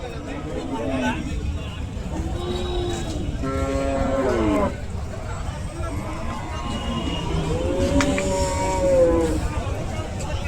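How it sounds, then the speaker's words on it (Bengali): Cattle moo repeatedly, several long lowing calls rising over a constant crowd babble at the Satmile cattle market in Jessore, with people talking nearby. "এই বাজারে কি পরিমাণে গরু নিয়ে আসা হয়েছে"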